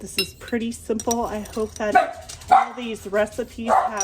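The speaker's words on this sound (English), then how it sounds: "sorry about the dog" A dog barks repeatedly nearby while a person talks, with dishes clinking now and then in the background.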